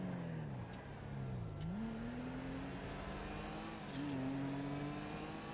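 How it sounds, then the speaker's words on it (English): A car's turbo and exhaust in the Monster Hunter Wilds video game rev and whoosh at moderate loudness, with pitch dips and climbs as it accelerates through corners, steady throughout with no talk. "I also just love the sound of this turbo makes as well."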